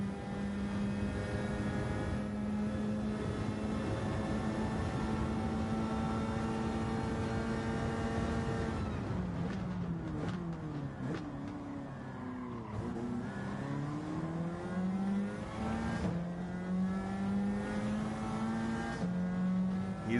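Race cars roar down a long straightaway in a stock-car racing video game, a steady loud engine drone with rising and falling pitch as cars shift and pass, with no talking.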